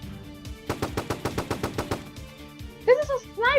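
AK-47 rifle firing in a video game, a rapid rhythmic burst of about ten shots that stops, followed by brief voices near the end.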